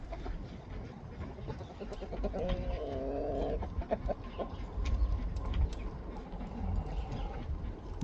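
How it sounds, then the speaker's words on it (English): Several roosters and hens in a homestead chicken coop, with clucks and a crowing-like call rising over a dense, noisy barnyard background through the whole stretch. "we have 8 roosters in here and 7 of them are likely leaving"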